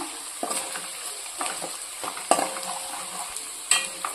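A turmeric spice mix fries in a pan for catering-style masala brinjal curry, soft sizzling under periodic scraping stirs, with a few sharper spoon-on-pan knocks, close and fairly quiet.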